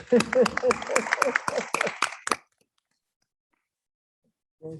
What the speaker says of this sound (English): Well, I'm going to clap for you guys.